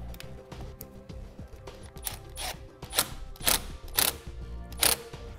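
A nut is tightened onto a ground wire terminal with a ratchet while setting up a flat-tow brake system. Quiet clicking ratchet strokes come first, followed by several louder, sharper ratcheting bursts in an irregular rhythm, with no talking.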